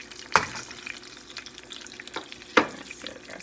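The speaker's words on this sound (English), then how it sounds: "That's the sizzling." Small beef burger patties fry in a pan with a soft, steady sizzle, broken by two sharp crackling pops a couple of seconds apart. Nearby and moderately quiet, with no voices.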